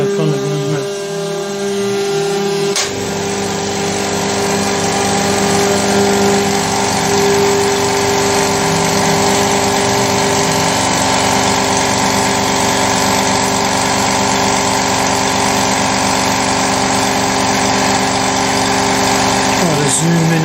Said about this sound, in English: the compressor's coming back on again now